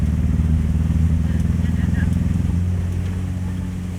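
A car pushes through flood water roughly half a meter to a meter deep, its engine droning steadily and close up with a low churning rumble, easing slightly toward the end.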